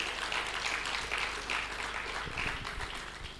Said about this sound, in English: That deserves a resounding applause, ladies and gentlemen